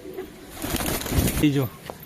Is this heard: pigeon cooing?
yes